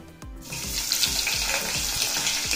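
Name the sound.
onion and green chili pieces frying in pan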